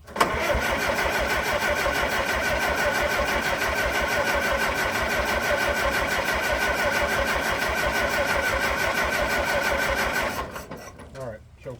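An aircraft engine fitted with a newly assembled Marvel Schebler TSX carburetor catches and runs, a loud, steady, close mechanical drone held for about ten seconds before it cuts off.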